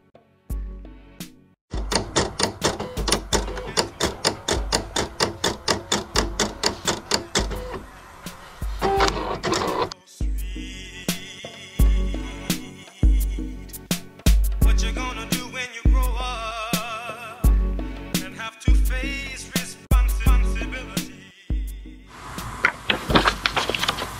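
A Silhouette Cameo cutting machine slices heat-transfer vinyl, giving loud, rapid, rhythmic motor whirring and stepping bursts with sharp clicks between passes, running steadily and alone for the whole span.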